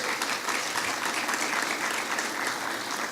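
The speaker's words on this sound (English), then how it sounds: "could we give them a round of applause?" Audience applause fills a diplomatic opening ceremony hall, steady dense clapping from a large crowd sustained throughout, without speech.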